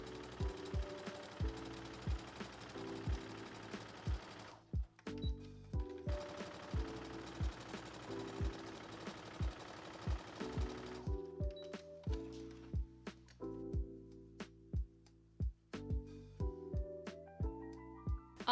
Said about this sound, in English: I'm going to switch my machine to a basting stitch, and I'm going to add 2 parallel basting stitches across the top edge